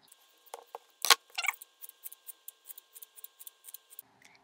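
Scissors trim long fur for custom cat ears, giving a series of crisp close snips in a quick, fairly regular rhythm, with a couple of louder cuts early on.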